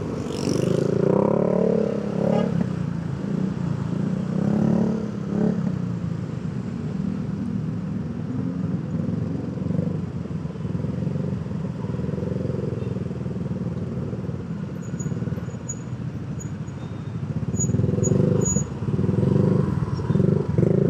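Motorcycle riding through a traffic jam on a Jakarta city street, with a steady low rumble of engines and vehicles close around, occasional revving swells, and a faint high whine.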